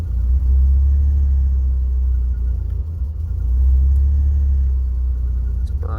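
A PT Cruiser engine on Megasquirt tuning idles steadily, a deep continuous rumble that stays loud and close throughout, with no talk over it.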